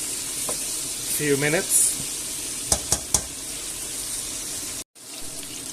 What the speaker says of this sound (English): So let's give this a stir.